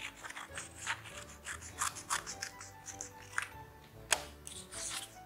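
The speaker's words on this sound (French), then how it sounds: "On découpe les deux feuilles de papier ensemble." Scissors snip through two sheets of paper held together in a home craft activity, a close series of crisp irregular cuts with light paper rustling and no speech.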